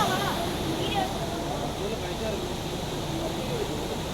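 Floodwater from heavy rain rushing down the river at Pamba near Sabarimala: a continuous, broad roar of fast-moving water, steady and fairly close, with no break.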